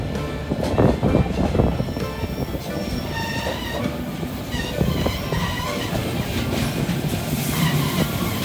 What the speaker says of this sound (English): In our case, 5 panorama wagons are pulled along.